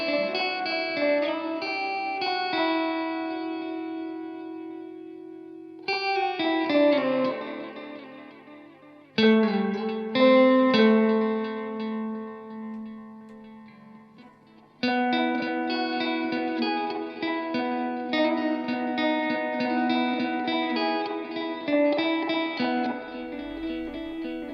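A guitar runs through a pedal that blends echo and reverb, in the Demedash T-120 and Roland RE-20 tape-echo style, with sustained chords and notes trailing into repeating echoes and a washy tail, played alone and loud.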